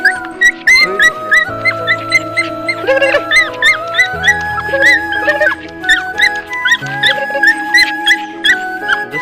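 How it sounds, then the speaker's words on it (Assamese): A dog whimpers and yips in a run of high, thin whines and short sharp cries, close by and insistent, rising and falling throughout with no speech over it. "এইটো কুকুৰ"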